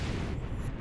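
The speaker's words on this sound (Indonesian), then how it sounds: "Meledak!" A dramatic explosion effect in a fantasy drama: a dense, sustained booming rumble that fills the short moment, loud and close, with no talking over it.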